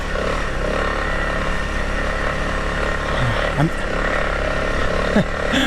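A Honda CRF300LS motorcycle putters along in first gear over a rough road, its engine a steady low drone under wind noise, with a few thumps and knocks from the bumpy surface.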